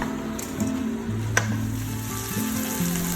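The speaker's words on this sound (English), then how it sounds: "Fry on medium heat for 6 to 7 minutes" Prawns frying with salt, pepper powder and chili flakes over medium heat, a soft even sizzle with a single sharp utensil tap, steady and close, alone without speech.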